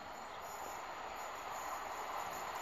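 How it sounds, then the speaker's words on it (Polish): Delayed TLK Wolin intercity train rolling into a station platform at Międzyzdroje, a steady low rumble of wheels and cars passing nearby with faint high squeals, no voices. "Wjazd opóźnionego TLK Wolin, opóźnienie 186 minut."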